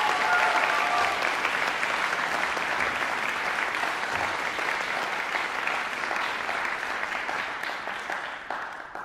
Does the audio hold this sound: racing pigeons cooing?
no